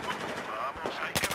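Rifle fire in the shooter game Battlefield 4 cracks out as a few close, sharp shots near the end, over a busy layer of game noise and battle ambience.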